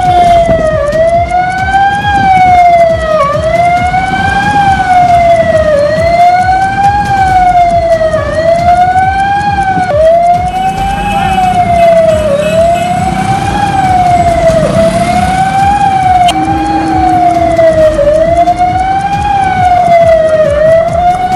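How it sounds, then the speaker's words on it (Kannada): A police Cheetah patrol vehicle's siren wails loudly and nearby, rising and falling in a steady repeating cycle every few seconds, sounding as a warning to shopkeepers. "ಚೀತಾ ವಾಹನದಲ್ಲಿ ಸೈರನ್ ಸದ್ದಿನ ಮೂಲಕ ವಾರ್ನ್ ಅನ್ನ ಮಾಡಲಾಗ್ತಾ ಇದ್ದಾರೆ"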